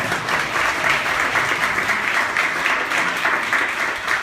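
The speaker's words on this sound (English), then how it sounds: "Give yourselves a round of applause for that." A participating audience at a rhythm workshop claps in a loud, dense, sustained round of applause that carries evenly from start to finish with no speech over it.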